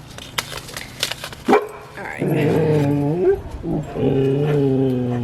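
Dogs bark and yip in short bursts, some whimpering, close by, followed by a person talking over more barking.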